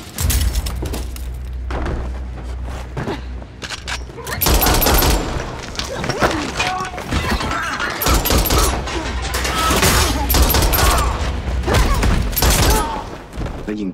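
Heavy gunfire in a Garena Free Fire action film, loud bursts of shots and impacts rolling through a tense scene, dropping away and then surging back, mixed with effects and some speech.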